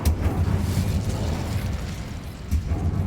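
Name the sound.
Incendio fire spell blast, from video game Hogwarts Legacy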